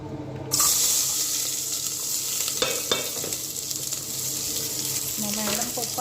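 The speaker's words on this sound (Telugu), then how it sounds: "అందుకని ఇంకా ఉల్లిపాయలు వేయించుకుంటున్నాను." Onions fry in a pan with a steady broadband sizzle, joined by occasional clinks and scrapes of stirring; the sound stays close and continuous throughout, with no talking.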